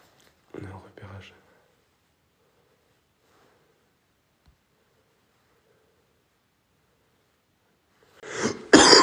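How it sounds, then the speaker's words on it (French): A person coughs close to the microphone during an urban exploration outing, one short burst of coughs early and another harsher fit at the end, with near silence between. "j'étais en train de tousser"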